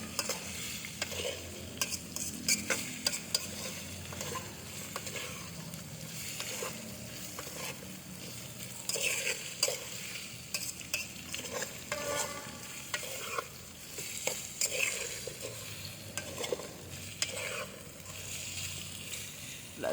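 Oil sizzles and crackles steadily in a pan during home-style Filipino stir-frying, a dense continuous hiss close up, with occasional scrapes and stirring knocks and no talk.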